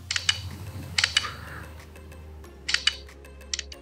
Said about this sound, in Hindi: ये हैसेलब्लैड वाला खचाक है